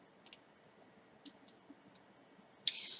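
A mouse clicks the X close button at the top right of the Edge browser: a few soft, sparse clicks, then a sharper click followed by a brief sustained rustle at the end, all quiet and close.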